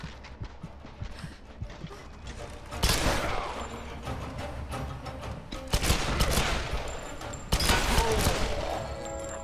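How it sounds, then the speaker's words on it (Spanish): Gunfire in the video game Tomb Raider, with a headshot during a fight against a samurai army in an abyss fortress: three loud broadband blasts burst over a busy background of game sound. "Disparo mortal a la cabeza"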